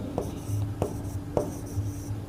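Writing on a board while a mirror formula is derived: three quick, regularly spaced strokes land about half a second apart over a steady low room hum, with no talking.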